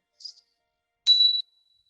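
A single mindfulness bell strikes once at the close of a guided meditation, a clear bright ring that sustains briefly and fades, preceded by a faint short tinkle.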